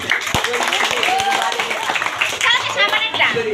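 A group of children claps together in quick, uneven applause for a few seconds while an adult speaks over it.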